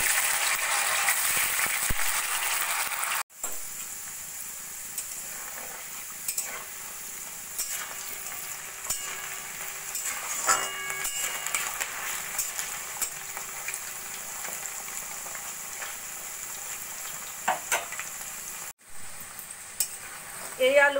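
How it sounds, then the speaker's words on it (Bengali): Potatoes deep-fry in hot oil in a wok with a continuous sizzle over low flame, broken by occasional clinks and stirring scrapes. "এবার আলুগুলোকে আমি লো ফ্লেমে গোল্ডেন করে ভেজে নেব।"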